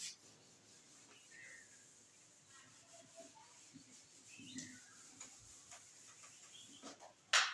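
Rubbing on a board as writing is erased during a maths lesson, a soft, faint, steady scrubbing across the whole stretch with a brief louder scrape at the end.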